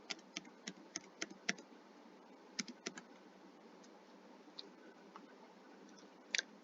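A name is typed on a computer keyboard in quiet, sharp key clicks, first a quick burst, then a few scattered taps and a final cluster, close and alone without speech.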